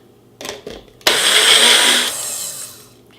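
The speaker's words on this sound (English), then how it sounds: "if you're using a food processor, you're just going to want to do rapid little bursts on the food processor" Food processor whirring in short pulses: two quick brief buzzes, then a loud sustained whir lasting about a second before trailing off, close up with no talking.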